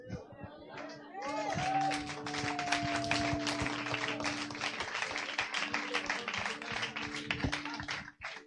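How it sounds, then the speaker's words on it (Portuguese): A church congregation applauds during a sermon, a steady dense patter of many hands clapping at a moderate distance, with a raised voice heard briefly at the start. "É para aplaudir de pé"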